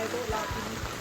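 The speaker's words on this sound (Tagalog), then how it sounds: "Grabe ang ulan." Heavy rain pours steadily during a typhoon landfall, a dense broadband wash with a few low thuds and faint voices in the background.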